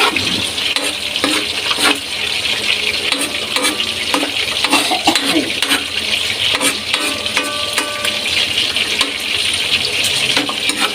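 Mixed vegetables sautéing in a pan for ginisang gulay, a steady close sizzle and frying hiss with occasional stirring scrapes and clinks throughout.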